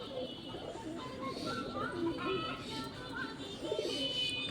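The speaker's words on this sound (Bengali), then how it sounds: "আমাদের কবিতর গুণা কেমন ডাকছে আপনারা দেখেন" A pair of pet pigeons at a home coo in soft, repeated, throaty calls, close by, over background chatter and household noise.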